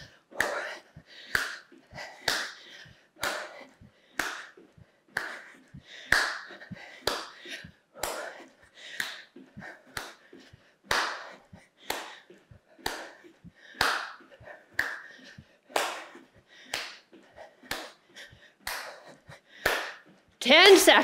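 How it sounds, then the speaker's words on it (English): Steady hand claps at home during a quick bodyweight cardio workout, about one crisp clap per second repeating evenly and close, with faint breathing between. "Give me that clap, come on."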